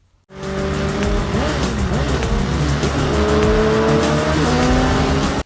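Racing cars from a Fortnite video game trailer: engines roar close and loud as tires squeal through turns in one continuous driving burst that starts abruptly after a brief silence.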